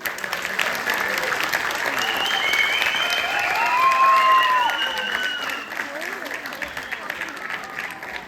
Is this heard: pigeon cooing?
no